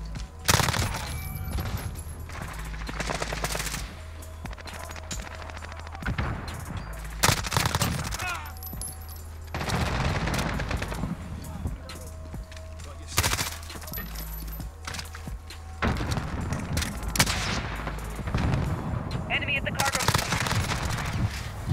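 Near-constant gunfire in Call of Duty Modern Warfare, rapid submachine-gun bursts from an MP5 with heavier booms mixed in, loud and dense across the whole stretch, while a voice talks over the shooting.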